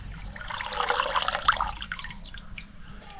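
Fenugreek greens being rinsed by hand in water a small batch at a time, giving a steady close sloshing and trickling with soft splashes throughout, no voices.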